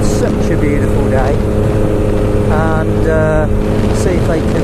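An MV Agusta F3 motorcycle being ridden on a sunny day gives a steady, loud engine and exhaust drone that runs without a break, with wind rush and a brief voice-like sound partway through.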